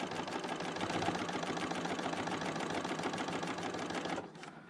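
A Bernina L890 sewing machine runs an overlock stitch along the frayed edge of bunting fabric, a fast, steady mechanical rattle close by that stops abruptly near the end.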